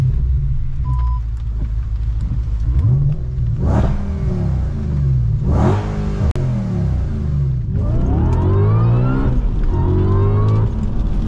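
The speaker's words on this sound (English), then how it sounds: "little exhaust rev." Supercharged stage 3 Audi RS4 engine and exhaust revving while driving on a rough road, two sharp rising revs standing out over a steady loud drone, then the engine note climbing again through gears, close and continuous with no talk.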